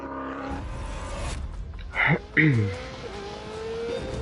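A Ferrari 488 lapping a track in The Grand Tour Game, its engine droning and then revving hard through gear changes, with a voice talking over the car.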